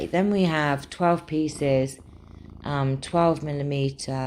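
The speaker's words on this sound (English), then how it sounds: "you hear him purring" A cat purrs with a soft, low continuous rumble close by, largely beneath someone talking steadily about craft supplies.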